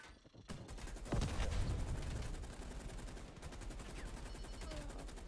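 A single sharp sniper shot cracks out in a video game, followed by a heavy booming rumble that lingers over a continuous busy game background.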